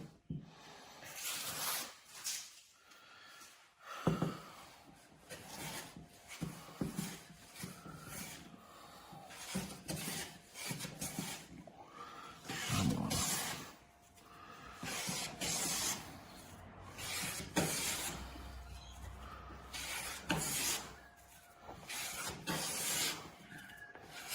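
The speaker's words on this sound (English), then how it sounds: "I think it'll take 2 or 3 passes with the smoothing plane." Repeated long, rasping strokes of a smoothing plane flattening a wooden board by hand, one pass after another, with brief pauses and quiet breathing between.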